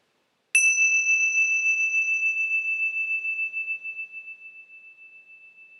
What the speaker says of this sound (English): let's notice the sound of the bell